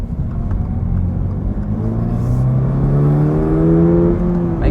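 Subaru BRZ tS, 2024, with its flat boxer engine pulling hard from inside the car, a loud, steady rising drone that climbs in pitch as it accelerates, with no voices over it.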